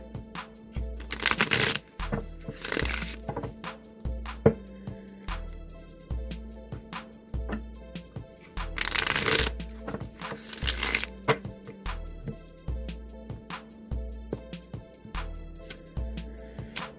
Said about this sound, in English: I'm just going to give the Rider-Waite deck a few shuffles here